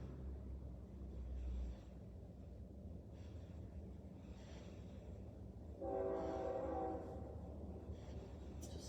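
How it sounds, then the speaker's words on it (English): Distant train passing near a house in Villisca, a faint low rumble with a horn blast sounding midway, quiet and far off, with occasional faint voices. "Is that the second train?"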